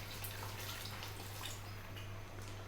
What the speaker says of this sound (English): I'm gonna add a little bit of water now.